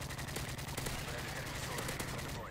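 In Call of Duty: Modern Warfare 3 multiplayer, an MP7 fires in fast, continuous bursts that stay dense and steady for the whole brief moment, with a voice mixed faintly underneath.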